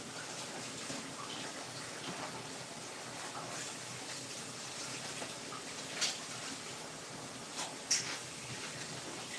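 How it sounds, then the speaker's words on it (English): Water running from a tap while peeled ginger, garlic and onion are washed, a continuous quiet gush with a couple of small splashes and clinks near the end. "I just stepped aside to wash the ginger and garlic that I peeled and onion."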